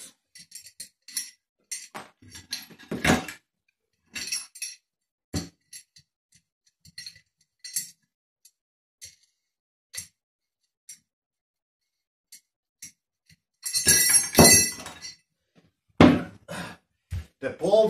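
Metal bolts with wing nuts clink and tap while being undone on a spinning arm-wrestling training handle: scattered sharp metallic ticks and clicks, close and isolated, with a louder rattling cluster near the end.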